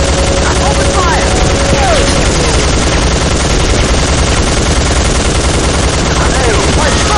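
Sustained automatic gunfire from the Soldier of Fortune 2: Double Helix PC game at a rebel encampment, a dense loud continuous rattle of shots with booms and a dense mix of battle noise throughout.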